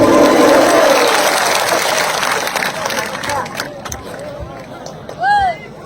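Audience applause breaks out at a political party event, a broad wash of clapping that fades gradually, with a voice talking over the crowd.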